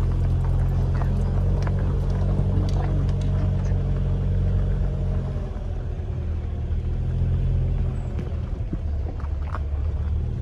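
Low-slung car's engine labouring up a rough unpaved road to a villa, a steady deep rumble and drone throughout, close and continuous with faint knocks and rattles from the rough surface.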